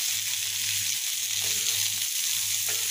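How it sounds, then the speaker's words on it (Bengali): Chopped onions sizzle steadily in hot oil until browned, a continuous close frying hiss with a low hum beneath and no speech. "পেঁয়াজ কুচিকে একটু বাদামি করে ভেজে নামিয়ে নেব"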